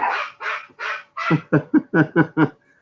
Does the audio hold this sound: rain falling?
no